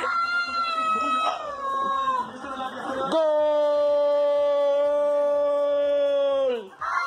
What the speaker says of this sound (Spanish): ¿Cómo hace el gato? Es impresionante. Estaba maullando